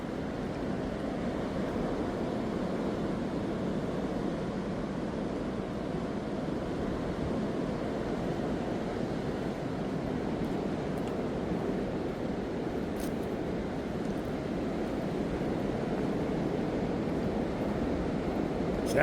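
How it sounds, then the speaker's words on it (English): Constant roaring rush of wind through swaying trees on the Appalachian Trail, broad and steady without pause, like strong gusts buffeting the microphone outdoors. "Sounds windy, doesn't it?"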